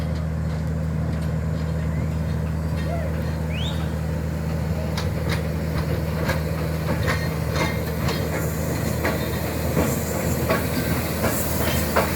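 A heritage locomotive running around its train at Grootbrak station, a loud continuous diesel rumble with rail clanks, squeaks and rhythmic wheel clicks throughout.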